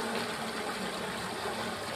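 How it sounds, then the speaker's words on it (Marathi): Water is pumped out and rushes into a farm field, making a steady, dense gush that continues unbroken at moderate level with no voices. "खडखडाट पाण्याचा"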